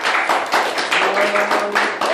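Audience clapping at a poetry slam tournament, a loud, dense burst of many hands close by, with a voice briefly audible underneath partway through.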